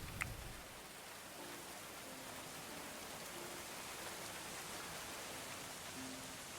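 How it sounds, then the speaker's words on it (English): Steady rain falls in a medieval colony-building game, a constant even hiss of downpour with faint low tones underneath and a brief tap at the start, no voices. "Well, you're all out mining in the rain."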